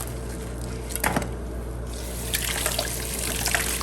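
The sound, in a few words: tap water washing the outside of a canning jar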